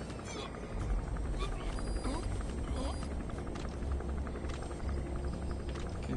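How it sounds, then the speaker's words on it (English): A gunship helicopter in a Metal Gear video game drones with a low, steady rotor rumble, heard but unseen, continuous and moderately faint beneath game sounds. "Can hear but not see the gunship."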